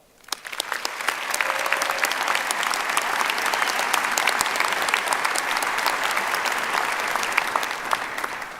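Sustained applause from a large commencement audience thanking the faculty, rising quickly and holding steady and dense throughout, with no talk over it.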